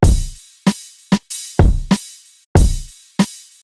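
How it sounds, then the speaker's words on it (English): Chorus drums for a beat, combining a punchy kick, a sharp snare and a crisp hat loop, play alone in a steady, repeating pattern that is loud and close. "both kick, snare, and hat loop sound like this."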